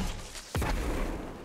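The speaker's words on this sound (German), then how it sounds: "Hier unser Grenade Launcher." One punchy, booming launch from a grenade launcher in the video game Destiny 2 stands out against steady game background noise, followed by a brief rumbling tail.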